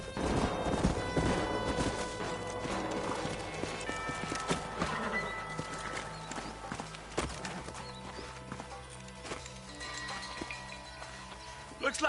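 Horses trotting in the Red Dead Redemption video game, a rapid rhythmic clip-clop of hooves with an occasional whinny, close and clear, under game sounds and some talk.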